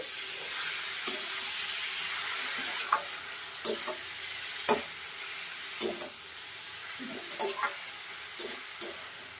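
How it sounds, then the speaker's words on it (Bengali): Radish curry with turmeric and green chillies being stirred in a pan, a steady low sizzle broken by about a dozen sharp spoon-on-pan scrapes and clinks, close and fairly quiet, with no talking. "এবার ভালো করে সব কিছু মিশিয়ে দেবো"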